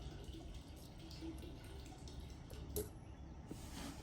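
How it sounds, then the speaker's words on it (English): Transmission fluid trickles from a container into a truck's fuel tank, a faint, steady liquid pour with soft gurgles and a brief splash near the end. "Pour half of it here."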